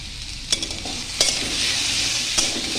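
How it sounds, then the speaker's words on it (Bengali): Potato and papaya pieces frying with salt and turmeric give a close, continuous sizzle, broken by a few sharp scrapes of stirring. "এরপর আমি আলু পেঁপেগুলোকে একটু নুন হলুদ দিয়ে ভেজে নিচ্ছি।"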